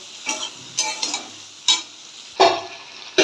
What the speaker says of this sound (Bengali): এবার ভালো করে কষতে থাকবো।